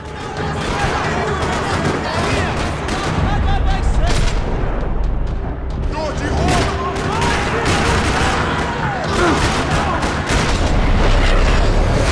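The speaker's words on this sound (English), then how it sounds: "Another parking lot rattling with gunfire." Sustained gunfire crackles through a parking lot firefight in the Max Payne 3 video game, dense bursts and booms running loud and continuous throughout with no speech over it.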